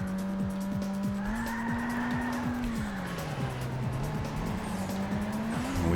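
Tires screech and skid as a car slides around corners in the PlayStation 2 racing game Burnout 2, a sustained wavering squeal over a loud engine roar with rhythmic clicking, close and continuous.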